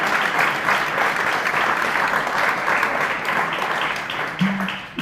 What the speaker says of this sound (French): nous sommes fiers d'accueillir Younous Omarjee, que je vous demande effectivement d'applaudir